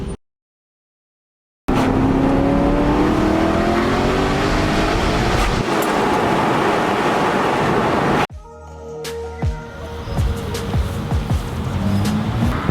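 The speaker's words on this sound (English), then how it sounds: "right now you are basically just driving what is essentially a naturally aspirated V8 Vantage." Aston Martin V8 Vantage with a supercharger fitted, driven at low revs and light throttle, loud and close with rising engine harmonics and road rumble, then cutting to quieter, more distant traffic-like noise.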